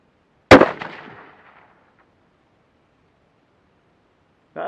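A single sharp gunshot from a Mossberg 800B rifle fired on an outdoor range, loud and close, with a decaying echo tail lasting about a second, then quiet before another short burst of sound at the end.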